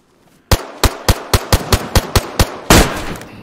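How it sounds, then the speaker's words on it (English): Gunshots in the video game DayZ, around ten loud, sharp cracks in an evenly spaced rapid sequence close by, ending with a heavier, longer blast. "Oh my god, he done me with one shot."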